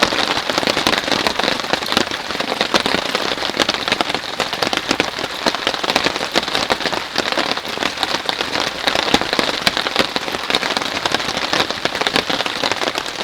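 Heavy rain drums on a tent during a camping trip in a storm with high winds, a dense, loud, continuous patter of close drops that holds steady for the whole stretch.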